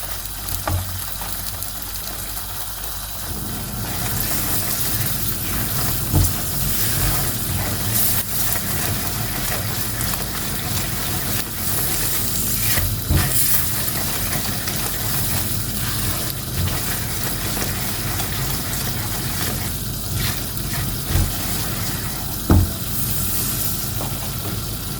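Semolina and egg halwa roasting in a pan over a slow flame, with a steady soft sizzle and crackle through the whole stretch and occasional light scrapes and knocks of stirring, close up and with no talking.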